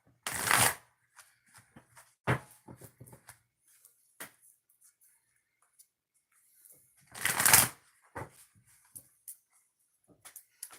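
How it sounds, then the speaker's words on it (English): A deck of cards shuffled twice, each shuffle a short loud papery burst up close, separated by quiet stretches with small handling clicks and taps. "All right, 2 shuffles."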